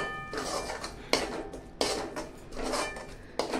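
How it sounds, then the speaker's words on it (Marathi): Chole masala being stirred and sautéed in a pan, with a spoon scraping and clinking against the metal in a few distinct strokes over a soft background sizzle, close and fairly quiet. "हे मस्तपैकी हलवून घ्यायचं. तेल सुटेपर्यंत याला परतायचं."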